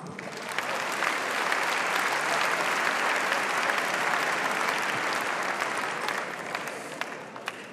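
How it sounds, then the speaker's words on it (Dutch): Sustained applause from an audience at the Sportgala Fryslân 2014 sports awards gala, welcoming award presenter Jillert Adema for the Frisian sportsperson category, a steady dense clapping that holds for several seconds before tapering slightly. "Mag een applaus voor de uitreiker Jillert Adema."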